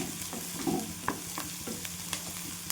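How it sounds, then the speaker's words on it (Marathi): Garlic sizzles in a hot pan with oil, a steady close frying hiss broken by scattered clinks and scrapes of a spoon stirring, with no talking. "हा लसूण पण छान भाजून घेते"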